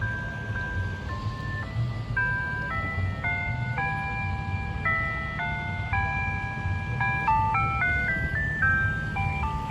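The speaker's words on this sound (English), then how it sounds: "This looks familiar to the one Wolo 345 ice cream truck I used to see." A Wolo 345 ice cream truck plays its melodic chime tune continuously, a bright sequence of steady electronic notes over low engine rumble, fairly loud and close, near a railroad crossing on Thompson Lane, with no talking.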